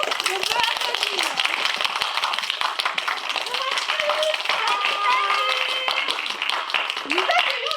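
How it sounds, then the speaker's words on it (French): An audience claps at a high school theatre show, rapid, energetic hand claps packed tightly together, with cheerful voices calling out over the clapping. "On peut applaudir"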